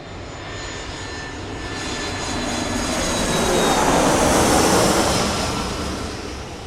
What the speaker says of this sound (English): It's an airplane.